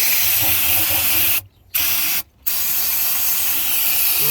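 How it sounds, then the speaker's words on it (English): Brake cleaner sprayed from an aerosol can onto the leaking rear differential of a 2003 Chevy Suburban, a loud close hiss broken by two short pauses into three bursts, with no talking. "I get a can of brake cleaner, whatever flavor you like, and"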